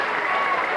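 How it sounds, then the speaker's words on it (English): Basketball fans at a 1992-93 Fort Recovery vs Ansonia boys game clap in a steady, dense round of applause that fills the gym. "And Doug gets a round of applause from the Indian fans as the Lions on their feet."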